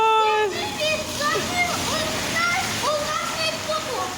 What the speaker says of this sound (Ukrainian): У нас потоп, дивіться, як ріки течуть.